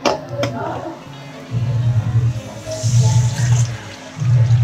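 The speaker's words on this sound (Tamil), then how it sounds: "இப்போ நம்ம தண்ணி ஊற்றிக்கலாம்" Water is poured into a pan of vada curry, giving a gushing splash in several pulses, with a person talking alongside.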